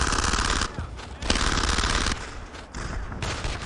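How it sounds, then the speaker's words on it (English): A machine gun fires sustained bursts during a World War II battle in the game Brothers in Arms. The loud, dense rattling comes in two long strings separated by short pauses, followed by lighter scattered fire. "That machine gun's opening up."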